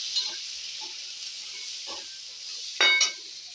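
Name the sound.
mixing spices and chopped green chilli for matar litti filling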